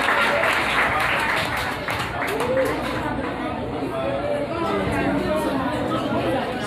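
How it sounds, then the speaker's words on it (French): An audience at a children's concert in a Nazarene church keeps up steady scattered applause, fairly distant and moderate, with a crowd chattering and voices over it throughout. "Applaudis Timonio, s'il vous plaît."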